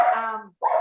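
Two short dog vocalizations, a drawn-out whining bark followed by a brief yip after a pause, close and fairly loud in a quiet room.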